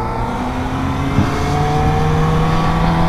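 A Suzuki GSX-S750 motorcycle engine revs hard and loud, holding a steady, slightly climbing drone close by for the whole stretch.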